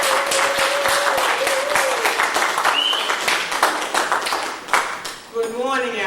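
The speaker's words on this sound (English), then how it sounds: "Can you bring up with a round of applause?" Audience applause at a talk on melanin and spirit welcomes a doctor to the stage, dense clapping spread across the room at steady volume, with a voice and a brief musical tone rising over it before fading near the end.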